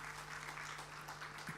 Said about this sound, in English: A huge round of applause for the DFS Secretary once again, ladies and gentlemen.